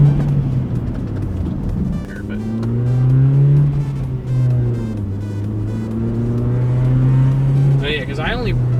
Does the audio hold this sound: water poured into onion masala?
no